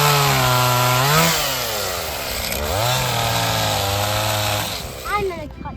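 Chainsaw idling and revving loud and close while cutting down a tree for firewood outdoors, engine pitch rising and falling in surges over nearly six seconds.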